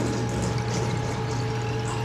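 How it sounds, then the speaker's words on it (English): Water draining from the tray of a DIY CNC plasma table as an air valve opens, a steady rushing, gurgling flow with a constant pump-like hum, unbroken throughout. "this valve opens, it starts dumping the air out"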